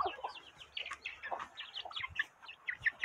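Chickens cluck and chirp in short, scattered bursts, several birds close by and fairly soft, with a light rustle underneath and no talking.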